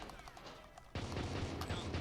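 Gunfire in the video game GoldenEye 007 on Xbox Live Arcade, a dense burst of shots that erupts partway through after a quieter stretch and keeps rattling loudly to the end.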